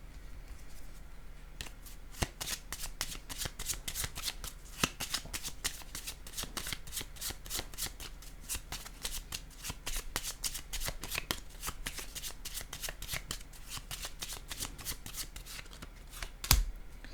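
Cards are shuffled and handled close up in a dense, rapid stream of crisp flicks and riffles, with a slightly louder snap of a card laid down near the end and no voices.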